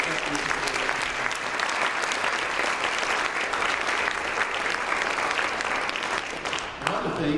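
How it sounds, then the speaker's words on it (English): Sustained audience applause at a Hunt County Republican debate honoring the candidates, a dense steady clatter of many hands filling the room at an even level throughout. "I'd ask that you give a round of applause to all the candidates"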